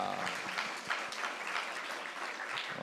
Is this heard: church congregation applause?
yes